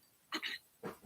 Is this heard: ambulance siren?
no